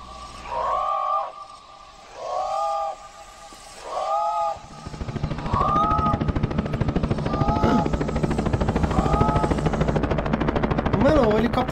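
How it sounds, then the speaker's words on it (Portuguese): Loud rhythmic thudding of helicopter rotors in the video game Tempus Triad fills the scene after a few wailing siren-like tones, steady and close, with game effects layered on top. "Mano, o helicóptero vai explodir."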